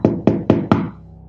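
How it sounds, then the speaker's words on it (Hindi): Four loud, evenly spaced knocks on a bedroom door, close and crisp, followed by quiet. "अचानक उनके बेडरूम के दरवाजे पे एक दस्तक होती है।"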